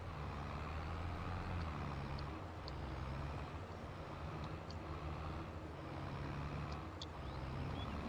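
A truck rumbles steadily toward a grain silo in Farming Simulator 22, its low engine drone constant throughout, with faint higher squeaks and clicks now and then over the top.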